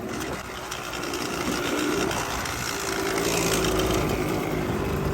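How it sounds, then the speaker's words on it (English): A small three-wheeler engine with a loose exhaust pipe runs nearby with a rapid, buzzy rattle and a slightly uneven, clattering tone, steady throughout with no talking. "Sounds like the pipe a little loose."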